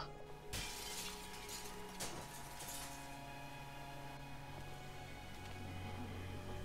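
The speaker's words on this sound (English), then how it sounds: "Break the glass." Glass shatters in The Walking Dead game with one sharp, bright crash and tinkling fragments, followed by a lighter clink, over a low steady hum.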